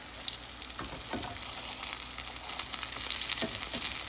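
Old-fashioned Southern salmon croquettes fry in a pan with a steady, close crackling sizzle and a few small pops as they cook, with no voices.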